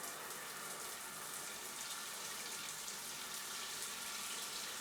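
Shower water running in a house bathroom after a long period unused, a steady hissing spray at moderate level, continuous and unbroken with no voices.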